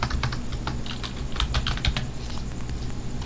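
Rapid, close clicking of a computer keyboard being typed on, with irregular keystrokes running steadily throughout over a constant background hum.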